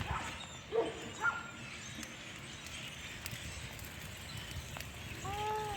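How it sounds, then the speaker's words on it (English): Two short dog barks ring out early, fairly distant, followed by steady outdoor ambience with birds chirping and a brief yip near the end. "if you can get past the dogs, listen to all the birds."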